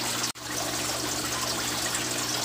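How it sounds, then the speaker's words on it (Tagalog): A small amount of water pours steadily for a few seconds, a continuous close splashing trickle broken by one brief drop-out near the start. "Lagyan natin ng tubig konti para may pagpag niya lahat."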